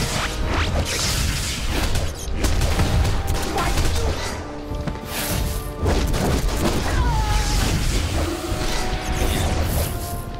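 Rapid gunfire from dual guns in a DC Universe video game rattles in dense, overlapping bursts, mixed with crashes and mechanical clatter throughout.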